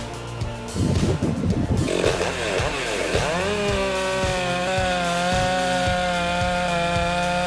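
A big chainsaw slices through logs, its engine first roaring raggedly as the chain bites the wood, then settling into a steady high whine with a rhythmic thumping underneath, loud and close.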